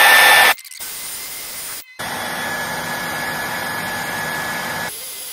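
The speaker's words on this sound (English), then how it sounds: "I've only got a small hairdryer for about 5 minutes to let the glue cure" A small hairdryer blowing hot air to cure glue on a leather roof flap of a Mercedes SL, a loud steady whooshing hiss broken by two brief cut-outs, then continuing evenly before stopping.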